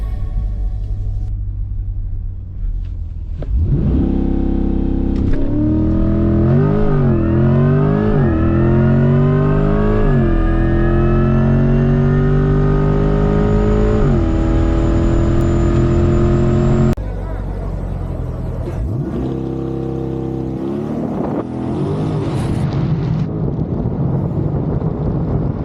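A Corvette C8 E-Ray in sport mode on street tires launches for a single pass, its engine rumbling loudly then revving hard through rising gear pulls before a shift and roaring on, close, with wind noise and talk mixed in.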